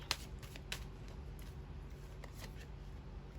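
A tarot card is drawn and handled at a reading table, giving soft close shuffles and card flicks at a low level, with no talk.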